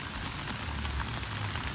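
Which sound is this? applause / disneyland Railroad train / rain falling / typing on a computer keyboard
rain falling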